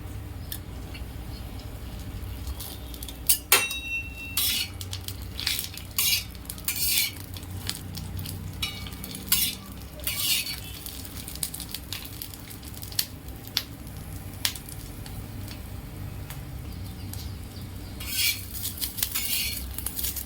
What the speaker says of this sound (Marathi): भाजताना थोडं तेल घालून घेते म्हणजे मिरची पटकन भाजली जाते